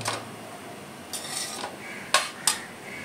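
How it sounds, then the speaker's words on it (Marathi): Fenugreek leaf bhaji with onion being sautéed in a pan, heard as a few scattered metallic scrapes and clinks of a spatula against the pan, with two sharper taps near the end, fairly quiet with no talking. "ते बघा आम्ही कांद्याची आपली ही मेथीची भाजी परतून घेतोय"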